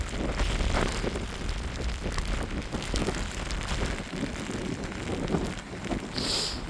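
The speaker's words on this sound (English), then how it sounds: "It is so wet and windy." Strong wind of around 70 mph buffets the microphone in a continuous roar on an exposed hilltop, gusting unevenly, with what may be rain pattering underneath.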